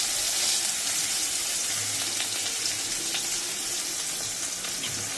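Chopped onion and a bay leaf fry in oil for prawn biryani, producing a close, even hiss of sizzling that carries on steadily throughout.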